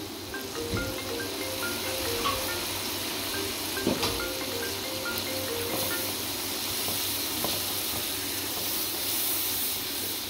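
Tomato paste fried in a pan with coriander powder and Kashmiri red chilli crackles and sizzles steadily, with a few stirring scrapes and clicks, fairly close and with no talking over it.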